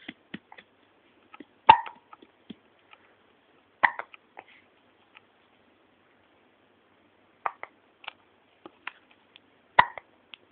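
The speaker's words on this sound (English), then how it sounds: "You have the hiccups." A baby hiccups in small, sharp bursts spread irregularly over several seconds, some louder and others faint, with near-silence between them.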